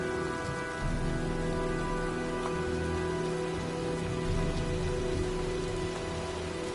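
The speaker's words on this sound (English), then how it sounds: "looks like a storm's coming" Steady rain pours down in a video game storm, a continuous dense hiss of drops on surfaces with no breaks, heard up close and alone at an even loudness.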